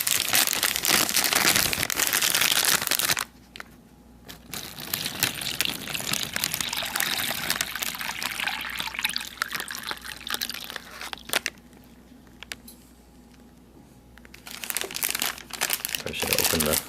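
Water poured into a plastic MRE hot beverage bag for an orange drink, with crinkling of the bag and a steady trickle between louder rustles; a person talks over parts of it.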